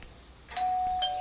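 Doorbell ringing indoors, a single clear electronic chime tone that starts sharply and holds steady, loud and close with no talk.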